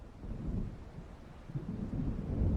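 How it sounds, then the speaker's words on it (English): Low rolling thunder from an approaching storm in the video game Alan Wake Remastered, a deep continuous rumble that swells toward the end, with no speech. "It seems there's a storm coming."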